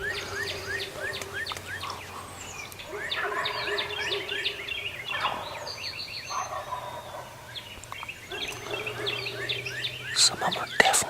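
Several wild turkeys, some of them jakes, gobble from the roost at dawn, with repeated rattling gobbles from different distances overlapping across the morning woods and birdsong scattered around them.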